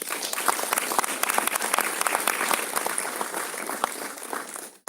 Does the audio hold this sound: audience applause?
yes